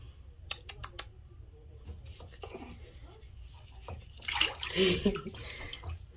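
A baby splashes in bathwater in a home tub, soft irregular sloshing and rubbing with a few sharp taps early on and a louder wet swirl near the end, faint and close, with quiet talk around it.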